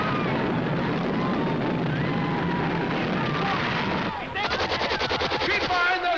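Dense gunfire and explosive blasts rake buildings in a 1960 war film, a loud continuous barrage that shifts into rapid rhythmic machine-gun bursts near the end, with shouted voices mixed in.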